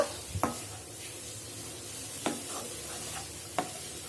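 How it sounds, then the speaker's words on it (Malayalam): Cabbage and grated coconut being stirred in a pan for a Palakkad-style cabbage upperi, heard as a soft continuous scraping with a few sharp spoon knocks against the pan, fairly quiet and without speech. "ഇത് നന്നായിട്ടൊന്ന് മിക്സ് ചെയ്ത് കൊടുക്കുക."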